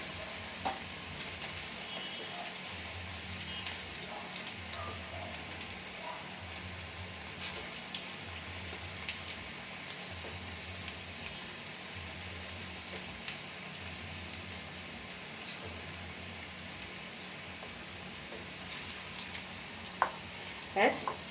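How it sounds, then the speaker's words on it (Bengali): Chicken pakora frying in hot oil in batches, a steady low sizzle with faint bubbling that runs throughout, fairly quiet and even with occasional small clinks near the end. "একসঙ্গে সবগুলো হবে না আমি কিছুটা কিছুটা করে ভেজে নেব"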